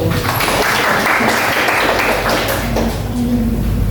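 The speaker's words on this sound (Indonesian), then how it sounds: "Iya, tepuk tangan dulu." Students in an Islamic religious education classroom clap together in a loud, dense burst of applause that lasts several seconds, with a few thumps and taps.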